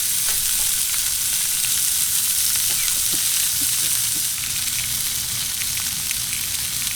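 Jalapenos sizzle steadily on a Blackstone griddle, a loud and even crackling hiss with a few small pops throughout and no talking.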